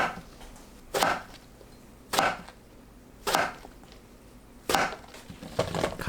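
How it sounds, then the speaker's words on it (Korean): Knife slicing an eggplant into 1 cm rounds on a cutting board: four sharp, evenly spaced cuts, each a crisp thud about a second apart, close and clear against quiet kitchen background. "가지 꼭지를 제거하고 1cm 간격으로 둥글게 썰어주세요."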